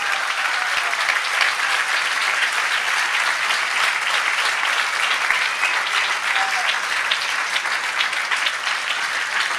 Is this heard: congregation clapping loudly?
yes